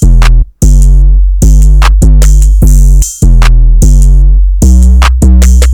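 A loud hip-hop beat thumps in a repeating pattern of heavy bass hits with snappy snare and clap accents and ticking hi-hats, played alone with no voices.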